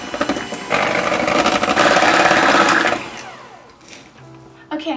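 An electric mixer whisks aquafaba for a vegan white cake batter, a loud steady whirring buzz for about two seconds that then winds down and stops.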